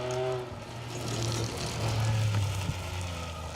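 Class G rally car with an engine of up to 1400cc passing on a forest stage of the Border Counties Rally, its engine revving and climbing through the gears at a moderate distance, rising and fading.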